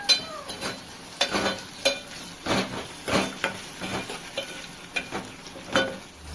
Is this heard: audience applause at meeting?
no